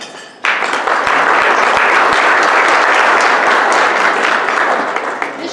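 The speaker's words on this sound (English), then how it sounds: "Can we please give yourselves a round of applause?" A crowd applauds steadily at a scholarship induction ceremony, dense clapping starting abruptly and sustained at full strength, tapering only slightly near the end.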